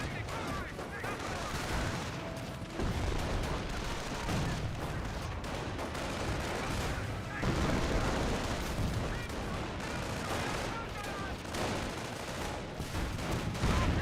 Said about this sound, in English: Mortar firing away.